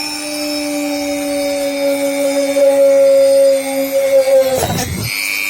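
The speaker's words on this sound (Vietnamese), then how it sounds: "dùng máy khoan mà khoan các bạn nha." A power drill whines steadily with a high, sustained motor tone while boring into the housing of an LED lamp, close and fairly loud, with a brief rougher burst near the end as the bit breaks through.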